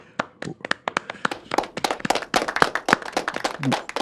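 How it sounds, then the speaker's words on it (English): A small group claps for James Markoski in a podcast studio, sharp individual hand claps close to the microphone in an uneven, loose rhythm that builds slightly before the end. "let's get a round of applause for James Markoski, everybody."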